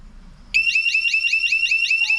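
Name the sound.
security system motion detector alarm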